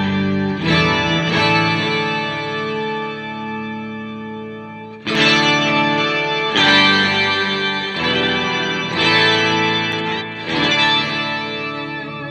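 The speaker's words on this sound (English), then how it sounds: "So that is the POG from Electro Harmonix" An electric guitar run through an Electro Harmonix POG octave pedal, with the overdrive switched off, rings out in full, organ-like sustained chords with stacked octaves, loud and close, struck about every second or two with no talking.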